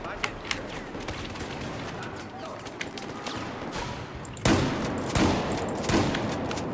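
Rapid rifle and machine-gun bursts in the World War I shooter Battlefield 1, sharp cracks fired into smoke that grow louder and denser midway, with someone talking over the shooting.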